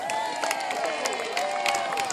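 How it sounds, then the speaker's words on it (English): A crowd cheers and claps at a trebuchet demonstration after four people lift a 5.5-tonne box, a steady wash of applause and whoops throughout with voices mixed in. "So let's give them a big cheer!"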